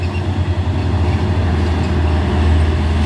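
Hino truck labouring up a steep hill, a loud, steady low diesel drone with a deep rumbling throb that holds for the whole stretch, heard close with no one talking.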